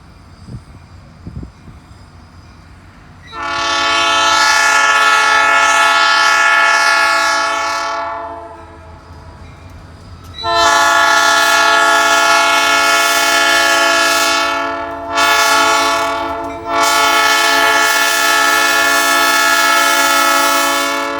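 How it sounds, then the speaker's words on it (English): A freight train with grain cars sounds its loud multi-tone horn at a brand new railroad crossing: one long blast, a pause, then another long blast with a brief break near the end, all close and dominant over low rumbling. "This is gonna be a good train."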